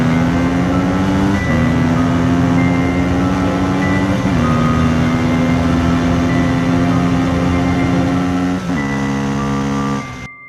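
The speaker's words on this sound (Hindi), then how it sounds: "जेसन लगातार गाड़ी भगा रहा था।" A speeding car in an animated chase scene, rendered as a sustained engine whine that holds a steady pitch and shifts upward at a few gear-like steps before cutting off abruptly.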